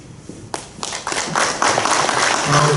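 An audience at a school gathering breaks into applause, scattered claps at first that quickly swell into steady, fairly loud clapping from a crowd.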